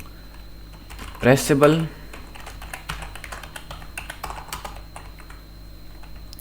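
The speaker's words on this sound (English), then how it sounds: "in here I will type" Code for a React Native bottom sheet is typed on a computer keyboard in quick, close bursts of key taps, with a brief spoken word early on.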